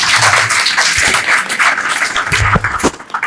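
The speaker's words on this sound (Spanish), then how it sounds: "Un fuerte aplauso para el profesor." Applause from an audience at a book launch for a philosophy introduction text, greeting a professor with a dense, steady wash of many hands clapping, fairly loud, with a few low voice-like tones mixed in.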